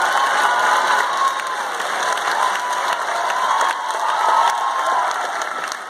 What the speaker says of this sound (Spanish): Aplauso para yo.